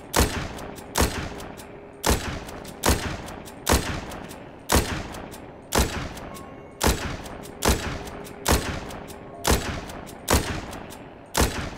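Gunfire from shooting zombies in The Walking Zombie 2, a dozen or so sharp shots at a steady pace about one per second, each cracking loudly and fading quickly, with no voices.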